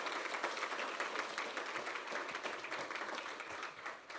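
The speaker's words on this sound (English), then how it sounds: "I would appreciate it if everyone could please join me in a round of applause welcoming Ray" Audience applause welcoming a guest to an entrepreneurship bootcamp fireside chat, steady dense clapping from a crowd that holds for about four seconds at moderate volume.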